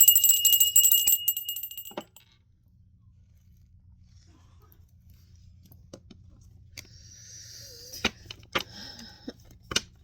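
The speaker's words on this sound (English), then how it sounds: "Let me ding that bell." A bell is dinged once near the start, its bright ringing tone sounding loudly for about two seconds before fading, followed by quiet background and a few scattered clicks and faint noises.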